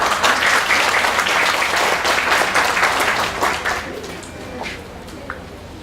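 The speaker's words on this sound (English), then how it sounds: "Claps for them." An audience at an English teachers' training workshop breaks into steady, dense applause that holds for several seconds, then thins and fades out with a few last claps.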